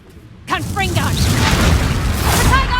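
A Confringo explosive spell blast in the video game Hogwarts Legacy bursts in sharply after a brief silence and roars on as a loud, sustained rumble, with voices calling out over it.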